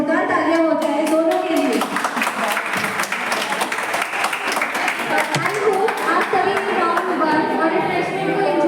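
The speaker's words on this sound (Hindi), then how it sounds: "एक बार जोरदार तालियां हो जाए दोनों के लिए।" Students clap loudly at a university B.Ed. farewell event, a strong sustained burst of applause with chatter and voices mixed in throughout.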